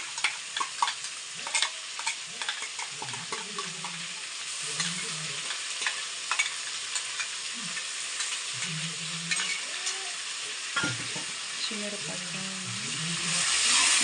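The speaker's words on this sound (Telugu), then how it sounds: "బాగా వేయించుకొని మొత్తం పచ్చివాసన పోయేలాగా వేయించుకోవాలి" Green chilli paste fries in oil for chilli chicken, giving a steady sizzle with frequent spoon scrapes and stirs. Faint voices murmur underneath, and the frying grows louder near the end.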